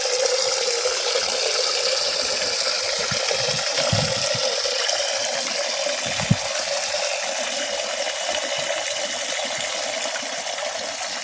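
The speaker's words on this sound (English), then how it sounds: "So I'm going to water with some plain water as well." Plain water poured onto yam plants growing in containers, a steady continuous splashing and trickling flow heard close and alone for the whole stretch.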